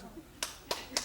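One audience member on a TV game show studio floor clapping alone, three sharp, separate claps spaced about a third of a second apart, close and faint in a quiet room.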